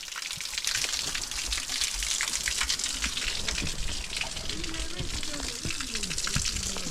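Hot water flows and splashes steadily from a roadside drinking water source in Sikles, a close, continuous gushing rush with no break.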